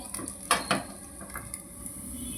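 A lid clinks twice onto a metal appe pan as corn appe cook, two short close metallic knocks over a faint steady sizzle.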